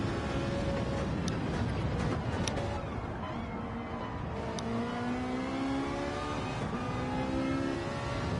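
A Ferrari GT race car in a racing video game howls at high revs, its engine note climbing and shifting steadily for the whole stretch, loud and continuous with no talking.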